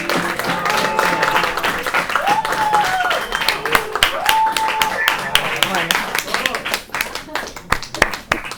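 An audience claps at a gathering in Argentina, dense, sustained applause with sharp individual claps throughout while a voice speaks over it.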